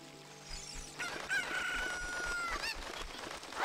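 Chicken from The Legend of Zelda: Ocarina of Time on Nintendo Switch, heard as a crowing, clucking fowl call over steady game music, with bright sustained tones in the middle of the clip.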